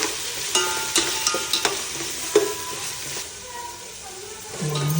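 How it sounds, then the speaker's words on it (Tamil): Garlic paste sautés in a pan for biryani with a steady sizzle and frying hiss, broken by several clinks and scrapes of a stirring spoon against the metal. "நல்லா வதங்கிட்டோம்."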